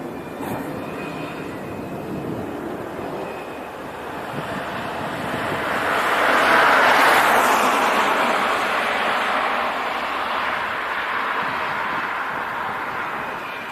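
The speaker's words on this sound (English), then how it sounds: "B-1 running test." A B-1 bomber's jet engines roar at RAF Fairford, a broad, distant rumble that swells to a peak midway and then eases back to a steady drone, with no talk.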